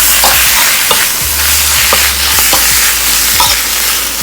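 Field rat stir-fried with pickled bamboo shoots in a spicy stir-fry makes a loud, steady sizzle. Repeated scraping stir strokes run through it over a constant low hum.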